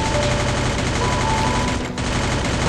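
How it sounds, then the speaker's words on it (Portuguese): Gunfire in the Free Fire video game: dense, continuous rattling bursts of automatic shots, loud and unbroken throughout, with a brief dip near the end. "Ele atirou em minhas costas!"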